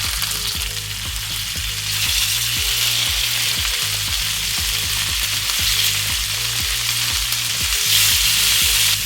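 Meat sears in hot olive oil in a pan, giving a loud, continuous close sizzle with a steady crackle throughout and no voices.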